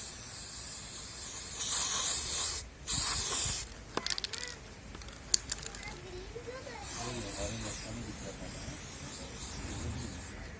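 A helmet being spray painted, with a few loud close hissing bursts from the spray can, then a longer softer stretch of spraying while someone talks over it.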